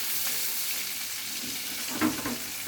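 Chicken pieces fry in a pan with a steady, soft sizzle and crackle throughout, a brief louder spatter burst rising near the end; no voices.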